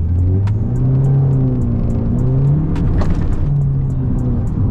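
A Honda Civic pulls away with the engine revving up through the gears, loud and close, a strong droning rumble that climbs and drops in pitch over several seconds.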